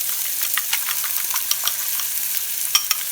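Beaten eggs hit a hot pan for a Greek omelette, producing a bright, continuous sizzling hiss close by, with a few sharper crackles and pops scattered through it.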